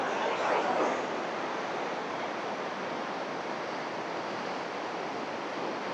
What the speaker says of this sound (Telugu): సముద్రంలో అలలు వస్తాయి కదా, అలా వస్తుంది మొత్తం ఆ 2 గేట్స్ దగ్గర వాటర్